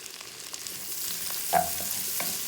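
Onions and peppers fry in a pan while a salmon fillet dish is prepared, giving a steady, moderate sizzle with a few light stirring clicks and one brief louder scrape near the middle.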